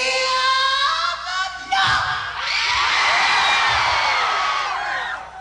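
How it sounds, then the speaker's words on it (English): Concert crowd at a show in Japan screams and cheers in a loud, swelling roar, with a sung or shouted vocal line at the start before the audience noise surges and holds. "you people in the back gotta scream just a little louder"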